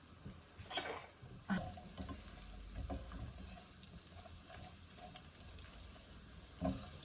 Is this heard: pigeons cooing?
no